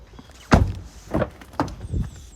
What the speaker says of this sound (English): Let's pop the bonnet while we're here.